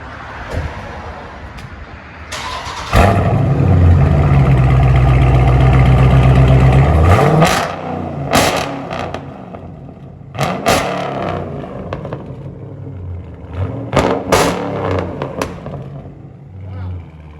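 A Dodge Charger with a 5.7L or 6.4L V8 is revved hard in one loud, sustained roar of several seconds, then settles into a rough idle broken by sharp blips of the throttle, with people talking in between.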